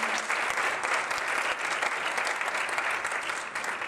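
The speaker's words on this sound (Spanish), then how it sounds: "Un aplauso, por favor." Concert audience applauding in a hall during a performance in Valencia, Spain, steady dense clapping that holds at an even loudness throughout with no voices over it.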